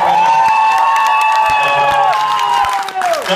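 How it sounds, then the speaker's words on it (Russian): A crowd at a music freestyle championship cheers, whoops and applauds. Sustained shouting voices ring out loudly over scattered claps, with a voice talking among them. "Вот теперь можно кричать, хлопать и поддерживать своих"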